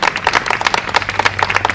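Audience applause welcoming Satish Dubey at a yoga event, dense rapid clapping from a sizeable crowd, loud and close, sustained for the whole stretch.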